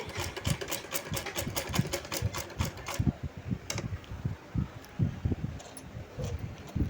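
A sewing machine stitches a cut work blouse neckline with a fast rhythmic whirring chatter, pausing and restarting in short runs, close and moderately loud.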